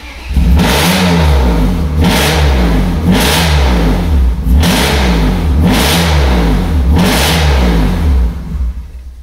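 A BMW E36 engine revs repeatedly under throttle, loud close bursts rising and falling in a steady rhythm about every second or so, with no voices over it.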